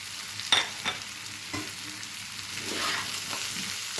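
Kashmiri chilli powder, regular chilli powder, roasted cumin-coriander powder and turmeric fry together in a pan for an egg and potato curry, soft sizzling under a few sharp spoon knocks and scraping stirs, close up.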